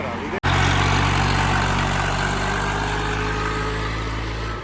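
A Swaraj 855 tractor engine runs loud and close, a steady droning rumble that stays level throughout after a brief cut near the start.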